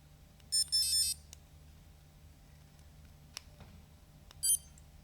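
Short bursts of high electronic beeping from a workout interval timer, a quick pair near the start and another single burst later, over a quiet room with a few faint clicks.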